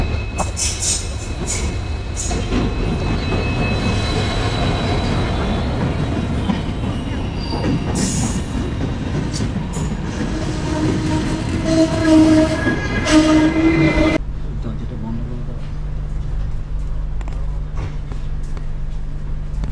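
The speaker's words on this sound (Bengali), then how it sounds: "এই মুহূর্তে যাচ্ছি 15777, যেটা এনজিপি থেকে আসছে, যাবে আলিপুরদুয়ার জাংশন।" Passenger train 15777 from New Jalpaiguri to Alipurduar Junction runs through forest, a steady loud rumble of wheels and carriage noise throughout, with brief squealing tones midway before the sound drops to a lower, even drone.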